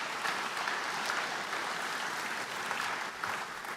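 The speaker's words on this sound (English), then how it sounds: "Give everyone a great big round of applause." A conference audience at a municipalities gathering in Ontario claps in a sustained, even round of applause that fills the room at moderate volume, with no voices over it.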